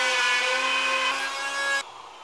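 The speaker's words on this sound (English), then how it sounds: "we're gonna have to route out a little section here so that it doesn't run into the back of the switch" A router cutting a small section out of wood sounds as a loud, steady high-pitched whine for about two seconds, then cuts off abruptly into quiet.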